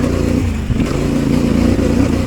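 CF Moto 450MT adventure motorcycle ridden off-road, its mid-range engine droning steadily and loudly, with a brief clattering thump partway through as the bike leaves a lip.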